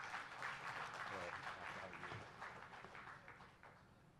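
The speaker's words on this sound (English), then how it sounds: "Everybody, a round of applause" Conference audience applauding after a speaker is invited up at an engineering event, a steady broad clapping wash with some voices mixed in throughout.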